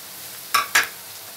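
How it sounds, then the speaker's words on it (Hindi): Chopped green chilies, onions and crushed garlic fry in a pan, with a faint steady sizzle broken by two quick loud stirring scrapes close together, no voices. "इसको भी हम प्याज के साथ ही फ्राई कर लेते हैं।"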